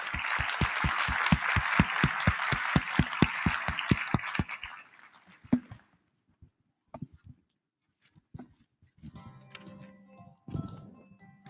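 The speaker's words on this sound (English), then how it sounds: "We're going to have a round of applause." A forum audience claps in a steady, dense burst of applause for about four seconds before it fades out, followed by scattered clicks, thumps and faint speech.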